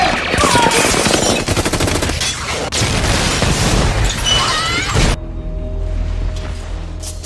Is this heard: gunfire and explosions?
yes